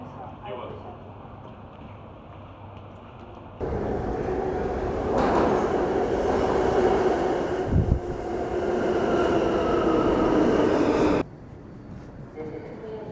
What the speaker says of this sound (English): This is Queensbound F local train.